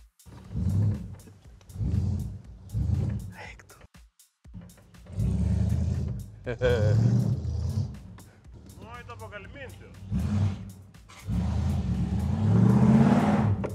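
Ford Ranchero engine revving in bursts with spinning wheels, rising and falling roars close by, mixed with people talking in the cab between the surges.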